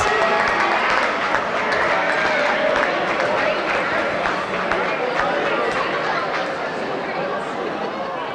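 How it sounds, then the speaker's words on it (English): Audience applause for seniors' posters at a school Decision Day event, dense continuous clapping from a large crowd with cheering and chatter mixed in throughout. "Give yourself a round of applause for those."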